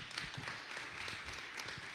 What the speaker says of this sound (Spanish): un muy fuerte aplauso aquí a la ponente